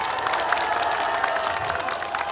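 An audience at a political party event applauding, dense steady clapping with faint cheering from a crowd, continuous and moderately loud throughout.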